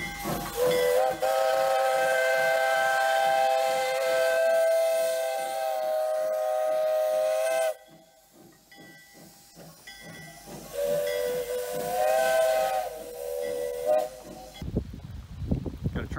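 A loud steam train whistle blows long, sustained blasts over the rhythmic chuffing and hiss of a nearby train, with a pause between the blasts, on a Pennsylvania short-line railroad near Stewartstown.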